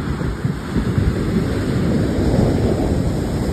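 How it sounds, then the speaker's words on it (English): Big ocean waves roll onto the beach at Sayulita, Mexico, a continuous loud roar of surf mixed with wind buffeting, with no one speaking. "Waves are big today."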